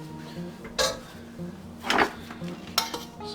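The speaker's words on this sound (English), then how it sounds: "Now all that's left to do is scoop." Metal utensil clinks and scrapes against a baking pan while gluten-free batter is scooped in, three or four sharp clatters spaced over a few seconds with quiet kitchen hum between.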